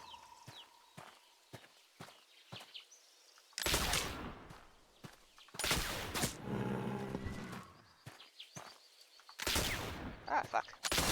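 Gunshots from hunting in The Oregon Trail video game ring out as several loud, sharp blasts spaced a few seconds apart, with faint game sounds and animal-like noises between them.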